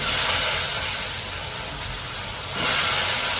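Banana flower and onion sautéing in a pan give a steady, loud broadband hiss like steam that dips slightly in the middle and swells again near the end, with no talk.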